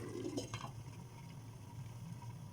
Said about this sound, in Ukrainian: Салат уже закипів